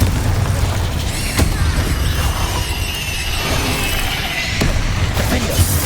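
Confringo spell blasts in the Hogwarts Legacy video game, heavy booms and crackling impacts landing every second or so among other spell effects and a busy fight, no talking.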